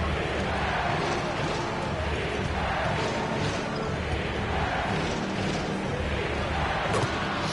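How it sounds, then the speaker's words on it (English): Dense roar of an NBA basketball arena crowd in Denver during a tight Clippers–Nuggets game, a steady loud wash of cheering and noise that holds throughout with no break. "Crowd into it. Let's listen."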